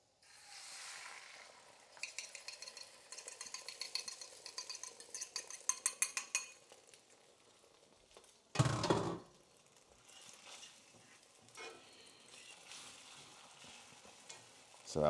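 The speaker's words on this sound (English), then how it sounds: "I'll go ahead and start scrambling these eggs." Eggs scrambled in a heating non-stick pan: a soft rustle, then quick rhythmic clicking as the eggs are stirred, a sudden loud clatter, and a quieter hiss with faint scraping afterward.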